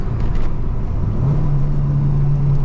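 Peugeot 309 GTI 16 engine running loud and close, a steady low drone whose pitch climbs slightly partway through as it pulls, with no voices.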